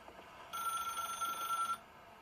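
Telephone ringing in the video game The Stanley Parable: a single steady electronic ring tone, moderately loud, starting abruptly and stopping after about a second, with no voices over it.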